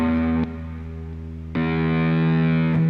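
Electric guitar driven through a Seymour Duncan Power Grid distortion pedal, heavily saturated and aggressive: sustained distorted chords struck three times, each ringing loud and thick with a buzzing edge, with no talking.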